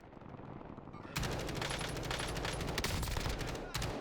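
Rapid automatic fire from a Kilo rifle in a first-person shooter video game, a dense loud burst of gunshots running almost continuously after a quieter lead-in, with a brief break near the end.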